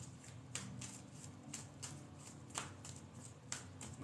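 Tarot cards are shuffled quietly up close, soft papery riffles recurring in short bursts about once a second over a faint steady hum.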